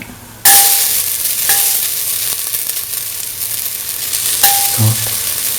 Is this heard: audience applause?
no